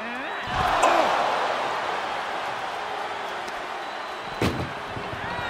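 An ambulance door slammed shut during a wrestling ambulance match, a single loud heavy bang rising out of a steady roar of arena crowd noise, followed by a smaller thud.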